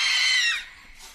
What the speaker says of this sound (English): Yeah, short scream.